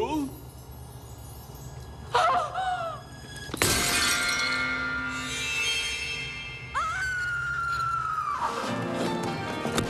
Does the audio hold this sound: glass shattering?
yes